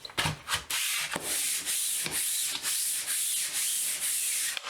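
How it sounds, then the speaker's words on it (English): Repeated rhythmic scraping of a sanding stick rubbing across a wall, close and steady, in long even strokes. "This is a sanding stick, and this is what the pros use."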